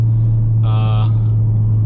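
A 2017 Ford Focus RS with 43k miles, engine and exhaust droning steadily and loudly while driving, with a short tonal swell rising briefly over the low rumble.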